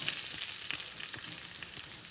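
Butter melts in a frying pan alongside warming kimchi and barbecued beef, giving a steady, close, crackling sizzle with no voices.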